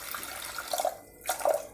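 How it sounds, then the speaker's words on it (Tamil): A small amount of water is poured into a pressure cooker holding washed mochai beans, giving two brief splashy gurgles close by. "கொஞ்சமாக நான் தண்ணி ஊற்றி"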